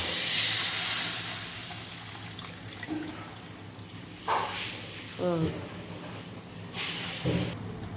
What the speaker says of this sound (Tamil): இப்போ கரைச்சி வச்ச புளி கொஞ்சம் ஊற்றிக்கலாம்